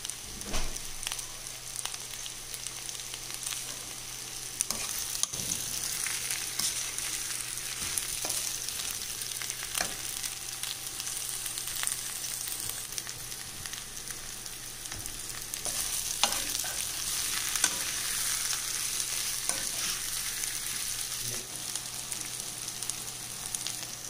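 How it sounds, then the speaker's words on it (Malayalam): Pieces of ash gourd fry in a pan on the stove with a steady close sizzle, punctuated by occasional scrapes and taps of stirring, and no voices. "ആദ്യം വറുത്ത് വെച്ചിട്ടുണ്ടായിരുന്ന കുമ്പളങ്ങ ഉണ്ടല്ലോ, അത് വീണ്ടും അടുപ്പത്തോട്ട് വെച്ചു"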